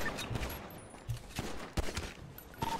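Gunfire in the video game GTA RP NoPixel during a fight at City Hall, several loud, sharp shots cracking in quick succession over a noisy game background.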